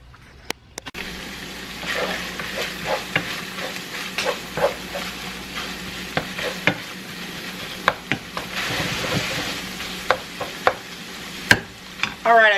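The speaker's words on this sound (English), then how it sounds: "I'm just going to saute this up until it's nice and brown." Ground meat sautés in a pot on a stovetop, a low sizzle under repeated close clacks and scrapes of a utensil stirring and breaking it up, with no one speaking.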